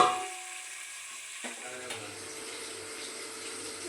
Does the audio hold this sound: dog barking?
no